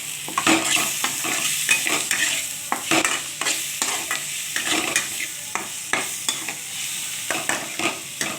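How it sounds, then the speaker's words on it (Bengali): Chili powder and turmeric fry with onions in a pan, a continuous close sizzle punctuated by steady, rhythmic stirring scrapes of a spoon. "তো আরেকটু আমি গুঁড়ো লঙ্কা দিচ্ছি। এটাকে ভালো করে ভাজতে হবে।"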